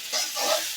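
Prawns fry with chili in a pan, giving a short, soft, hissing sizzle that lasts under a second, with no voices.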